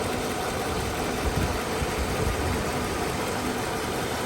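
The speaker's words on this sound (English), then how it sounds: "Right, so that's idling off choke now." A 1984 Mercedes 380 SE idles off choke, its engine giving a smooth, steady low rumble with a faint regular pulse, heard close and alone with no voices.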